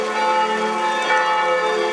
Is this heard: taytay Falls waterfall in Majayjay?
no